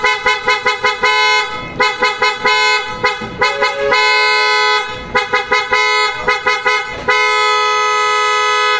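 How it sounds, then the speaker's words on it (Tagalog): Loud, bright PIAA auto-style horns on a Toyota Hilux blaring in a series of short rapid toots, then longer sustained blasts and more staccato bursts, very close and dominant with no talking. "Testing natin yung PIA horn ni sir, no?"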